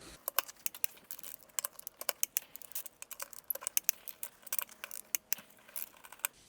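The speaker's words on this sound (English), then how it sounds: "let's go loosen up all the lugs before we lift the tire all the way up" Lug nuts on a 37 inch tire are worked loose with a tool, giving quick, irregular metallic clicks and ratcheting ticks, faint and close, in a rapid, uneven run with no talking.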